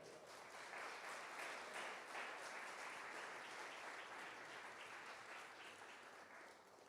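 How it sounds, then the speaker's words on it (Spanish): A church congregation claps together in a steady, dense round of applause that sounds somewhat distant and reverberant, holding evenly throughout with only a slight fade near the end. "Den un aplauso al Señor."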